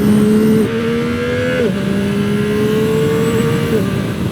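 A 2025 Yamaha R9 sport motorcycle engine revs hard through quick-shifter upshifts on country roads, its pitch climbing and dropping at each gear change, loud and steady.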